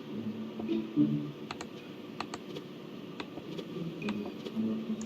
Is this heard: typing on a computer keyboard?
yes